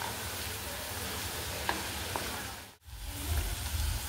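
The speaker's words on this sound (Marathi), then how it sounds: "हे बघा, असा हा कांदा लाल करून घ्यायचा आहे आपल्याला।" Onions frying in oil in a pan until browned for a spicy onion masala, giving a steady close sizzle with a couple of faint clinks and a short break near the end, no talking.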